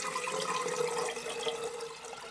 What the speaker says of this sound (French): je vais verser l'eau sur le dessus du coton fromage